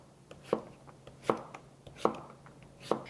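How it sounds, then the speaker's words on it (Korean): A knife chopping zucchini into half-moons about half a centimetre thick on a cutting board, with sharp, quiet strikes at a slow, even pace, roughly one every second, and nothing else heard. "우선 호박은요, 반달 썰기를 해주시면 돼요."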